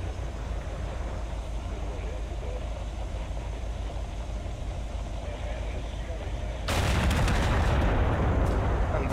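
Tank battle in the Total Conflict Resistance video game: a steady rumbling engine drone, then a sudden loud burst of gunfire and blasts near the end, with a voice speaking.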